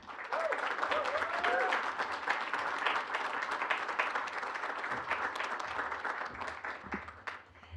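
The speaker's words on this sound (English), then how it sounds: "can we just give Sheila another round of applause?" At a student leadership awards ceremony, an audience gives a steady, dense round of applause that continues evenly throughout, with a few faint voices mixed in.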